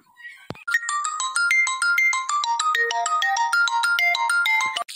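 An electronic phone ringtone plays a bright, repeating melody loud and close, running for several seconds after a short click at the start.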